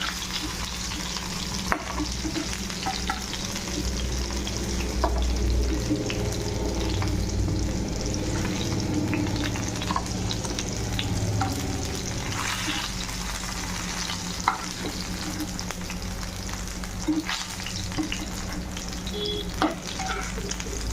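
Stuffed brinjals filled with spice masala fry in hot oil, a steady, continuous sizzle with occasional stirring scrapes and no voices.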